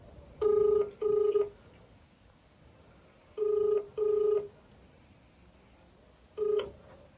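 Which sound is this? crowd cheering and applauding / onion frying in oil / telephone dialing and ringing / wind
telephone dialing and ringing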